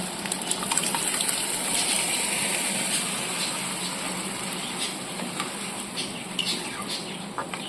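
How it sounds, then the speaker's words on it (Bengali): Boiled mung dal pours into a pan of fried fish head masala, giving a steady loud gushing, sizzling wash that runs continuously without pause. "আগে থেকে সিদ্ধ করা ডালটা ঢেলে দিচ্ছি।"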